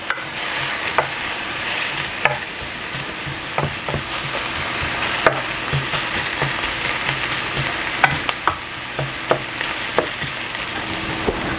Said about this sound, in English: You want just enough oil in your pan to really coat it well so that you can stir fry your onion and your carrots.